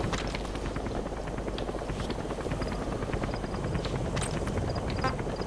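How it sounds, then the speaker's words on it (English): A helicopter in Metal Gear Solid V: The Phantom Pain arrives with a steady, loud rotor chop that runs throughout, a close, rhythmic thudding beat. "helicopter, get here"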